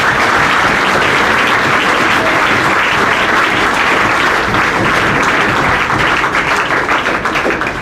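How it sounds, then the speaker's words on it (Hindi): Loud, dense applause from an audience at an academy ceremony honouring students who reached Class 1 officer rank. The clapping stays steady and full from start to finish, with no voices standing out. "तो एक बार इनके लिए ज़ोरदार तालियां हो जाए।"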